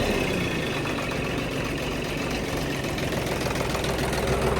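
A tractor engine with its turbo removed runs steadily at a rough idle, a loud, constant low rumble with no breaks and no voices.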